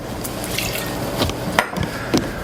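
One and a half ounces of bourbon is poured for a Valentine's cocktail, a brief, close trickle of liquid into a glass lasting a couple of seconds.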